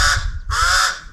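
A crow near a lakeside campsite at Lake Cyohoha gives two loud, close caws in quick succession, each harsh and drawn out, with a brief gap between them.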